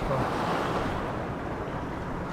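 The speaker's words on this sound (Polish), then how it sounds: "Ale tutaj jak fale lecą." Sea waves break along the Cyprus shore in a continuous loud, broad wash of surf, with wind noise buffeting the microphone.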